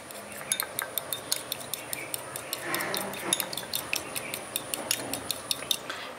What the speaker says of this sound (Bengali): এবার ডিমটাকে ভালো করে ফেটিয়ে নিচ্ছি।